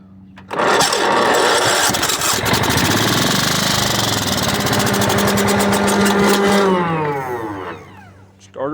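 Craftsman riding lawn mower engine cranking and catching, then running loud and close at a steady idle for several seconds before winding down. No one speaks over it.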